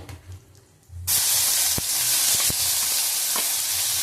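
Onion paste hits hot oil with a dried red chilli and bay leaf already in the pan, bursting into a loud, continuous sizzle after a quiet second, with occasional sharp pops and stirring scrapes.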